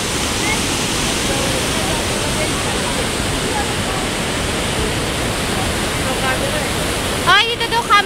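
Rhine Falls thunders in a steady, dense roar of heavy falling water, close and loud throughout, with a few brief voices cutting in near the end.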